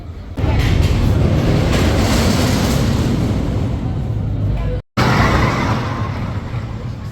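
A loud, steady rumbling ride in the middle of a wooden roller coaster train at Europa-Park, with rattling wheels and wind noise, briefly cutting out near the end before the roaring clatter resumes.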